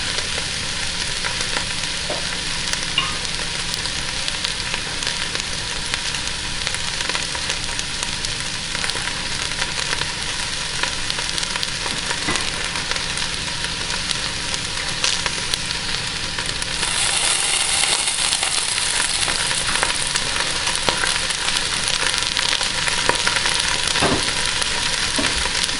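Halibut steak pieces fry in a pan for a Thai-style dish, a steady close sizzle and crackle that runs throughout and grows slightly brighter and louder partway through, with no talking.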